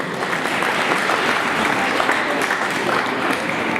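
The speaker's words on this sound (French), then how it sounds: "on peut l'applaudir très fort" Steady, dense applause from a crowd at a cat show, loud and continuous throughout with no pauses.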